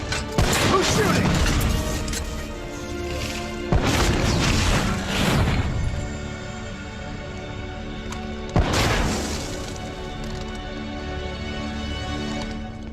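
Three heavy booming blasts from Call of Duty Black Ops gunfire and explosions, each a loud crash trailing into a long rumbling decay, spaced several seconds apart over a steady mechanical background.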